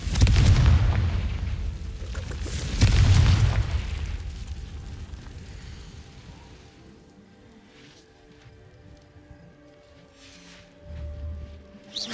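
A Confringo spell in Hogwarts Legacy sets off a deep, booming fiery blast, followed by a second heavy explosion, then a long fading rumble and a low thud near the end.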